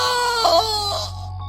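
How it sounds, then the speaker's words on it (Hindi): A loud, terrifying, drawn-out scream as someone jumps from a moving train, wailing over a steady low hum for about a second before fading away. "एक जोरदार भयानक चीख की आवाज आई"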